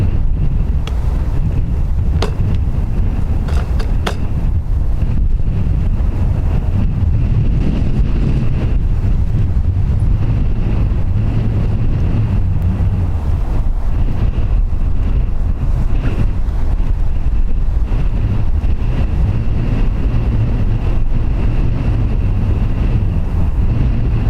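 Strong crosswind at Dublin Airport roaring steadily and loudly across the microphone throughout, a continuous buffeting rumble with no talk.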